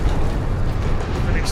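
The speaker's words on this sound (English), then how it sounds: "An explosion." A deep, rumbling explosion from an artillery shell in the video game Space Marine gives a dense, steady roar across the whole short moment, with no clear separate blasts.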